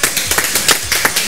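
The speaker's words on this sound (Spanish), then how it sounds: "Un aplauso para ellos." Audience clapping at a Spanish-language interview event with physics professors, a short burst of several hands with irregular claps at close range, no talking over it.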